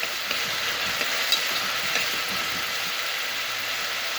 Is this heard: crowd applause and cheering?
no